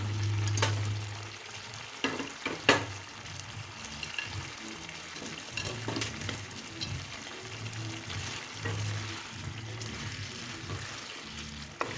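Fried cauliflower pieces cooking in a thick tomato ketchup gravy for gobi Manchurian, with a soft bubbling sizzle, low stirring thumps and a few clatters against the pan, close and without talk.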